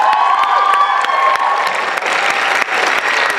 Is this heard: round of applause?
yes